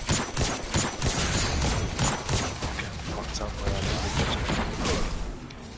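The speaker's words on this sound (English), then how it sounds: "What the hell is still shooting at me?" Repeated gunfire bursts in the video game Destiny 2, dense and loud over a busy mix of game effects, with a voice talking now and then.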